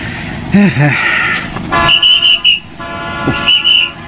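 Car horns honk in short toots amid traffic noise, with a voice speaking briefly over the street sounds.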